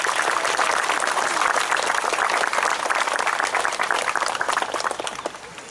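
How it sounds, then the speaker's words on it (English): Dense, steady clapping from an outdoor crowd at a Memorial Day parade program in Connellsville, Pennsylvania, greeting a featured speaker, loud and continuous before tapering off at the end. "with a round of applause"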